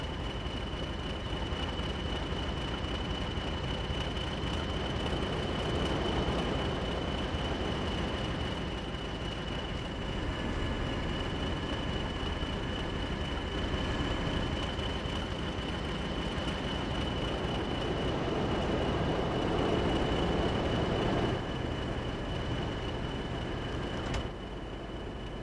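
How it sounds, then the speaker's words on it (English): Class 40 diesel locomotive in Train Sim World 2 running steadily, a continuous rumbling engine drone with a faint high tone and rail noise throughout, unbroken and without speech. "here it is in all its glory again, guys. Diesel 261 or class 40"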